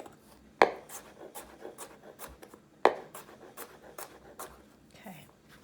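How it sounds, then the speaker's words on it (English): A knife chops herbs for a garnish in slow, careful, rhythmic strokes on a board. Two sharper knocks stand out from the soft, steady cuts, heard fairly faintly and without talk. "If I'm using it as a garnish, I'm not rushing through this chopping process."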